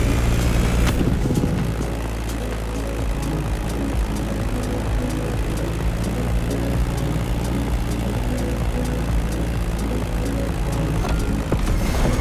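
A Beechcraft Staggerwing propeller plane in The Crew Motorfest drones steadily and loudly throughout, its engine and propeller giving a continuous, rough, buzzing roar with no breaks.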